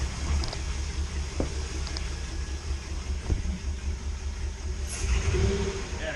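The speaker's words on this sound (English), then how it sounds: "Rev this engine up a little bit." Boat engine being revved during winterizing, a steady low rumbling drone with a few knocks and a swelling rise in power near the end, no talk.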